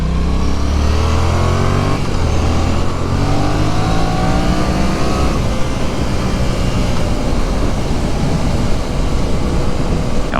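A 2019 Yamaha MT-07 motorcycle is ridden on the road, its engine revving up through the gears in loud, rising sweeps with clear gear changes and steady wind rush, and no talking.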